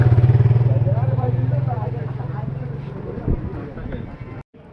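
Motorcycles of a group of bikers idle at the Sahasradhara 2 hill spot in the Sitakunda hills, a deep, steady engine drone that is loudest at first and slowly fades, with people talking over it.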